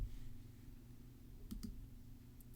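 A computer mouse clicks on notes in music composition software: two quick close clicks near the middle over a low steady hum, with one faint click later.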